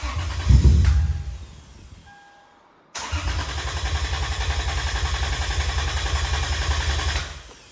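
A 2003 Lexus IS 300 engine with a starting fault: a running engine cuts off and winds down to silence, then cranks and fires back up into a steady, loud idle before shutting off again.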